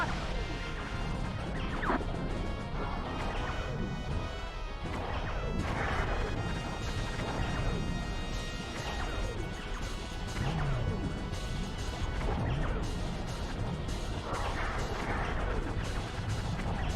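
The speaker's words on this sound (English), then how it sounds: "Aim for the 2 columns. Fire a homing torpedo." Homing torpedoes fired and striking targets in a video game: repeated loud crashes and smashing impacts over constant game noise and music, with talking mixed in.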